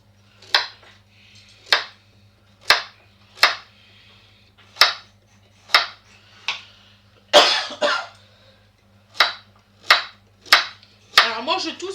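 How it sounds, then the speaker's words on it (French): Someone coughs repeatedly after accidentally swallowing white pepper while cooking, about a dozen sharp, evenly spaced coughs and throat-clearing bursts, close and loud over a faint steady kitchen hum. "moi je tousse parce que sans le vouloir j'ai avalé du poivre blanc"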